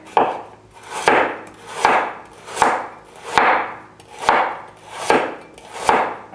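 A knife slices a carrot as thinly as possible on a cutting board, about eight evenly paced strokes. Each stroke swells briefly and ends in a crisp tap on the board, close and clear, with no talking.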